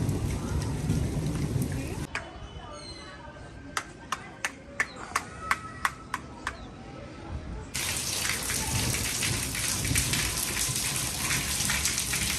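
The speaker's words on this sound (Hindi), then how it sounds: "आप बारिश में किधर गई थी?" Heavy rain falls in a village in Punjab, Pakistan, a dense hiss that drops away midway to sparse drips and sharp taps, then returns full and steady for the final seconds.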